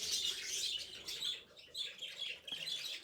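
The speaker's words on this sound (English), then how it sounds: "Bengalese finches." Bengalese finches chirp and twitter in quick high-pitched bursts in an aviary, several calls overlapping at close range with no talking.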